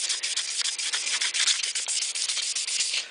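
Stainless steel is buffed with 600 grit, giving a close, continuous abrasive rubbing hiss that pulses in quick rhythmic strokes without pause.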